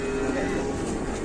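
A large pregnant-looking cow lying down moos in one long, continuous low call close by, loud and steady throughout with no other sounds.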